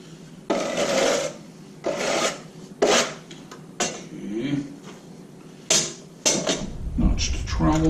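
A notched trowel spreads mortar across a 12x24 tile for a backsplash, making a series of short, close rasping scrapes separated by brief pauses.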